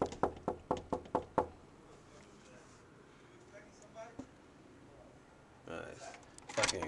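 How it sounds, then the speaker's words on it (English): A hotel room door knocked on at an interview visit, a quick run of about seven sharp raps at the start, then quieter background, a lone thump, and voices talking near the end. "Let's go knock on the door and see what's going on."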